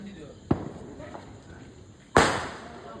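Two firecrackers go off outdoors: a sharp bang followed by a louder, closer blast with a brief ringing tail, while people talk in the background.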